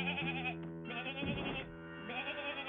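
Sheep bleat loudly and close by in a cartoon, a few drawn-out, wavering cries following one another with only brief gaps between them.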